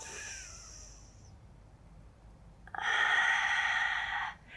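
Deep breaths during a Pilates mat exercise, a soft hiss of air at the start, a quiet pause, then a louder, fuller breath near the end, close and without talk.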